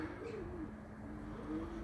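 A wild pigeon coos in a low, soft, rolling call, repeated steadily over a faint outdoor background near a pigeon loft.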